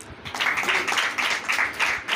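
Congregation applause during a Sunday church sermon: a short burst of steady, dense clapping that fills the room at moderate loudness, with no voices over it.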